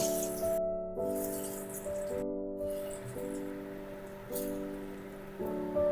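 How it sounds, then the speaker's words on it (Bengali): Dhoka, lentil cakes, frying in plenty of hot mustard oil in a kadai, giving a steady close crackling sizzle that runs under background music with two brief dropouts. "এই তেলের মধ্যে ধোকাগুলো ভেজে নেব"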